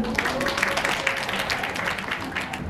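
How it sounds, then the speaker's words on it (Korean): Audience applause welcoming a lecturer at a hotel lecture in Jeongdongjin, a moderately loud, busy patter of many hands clapping at once, continuous across the short stretch. "손예진 강사님은 나오시면 큰 박수로 맞이해 주시면 감사하겠습니다."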